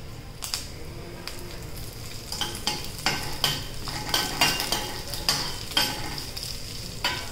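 Curry leaves hit hot oil already holding dried red chillies for a Kerala-style ginger raita, giving a steady close sizzle punctuated by repeated sharp metallic scrapes of a spoon stirring in the pan, with no voices.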